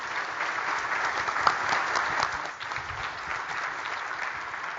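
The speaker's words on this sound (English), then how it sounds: "Can we get a round of applause for the panel?" Audience applause for a panel at a conference session on real-world data use, dense and sustained across the whole stretch with steady loudness and no speech over it.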